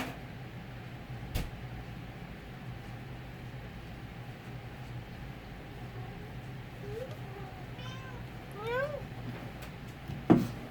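A cat gives a few rising meows near the end, fairly close, over a quiet indoor background with a couple of soft knocks.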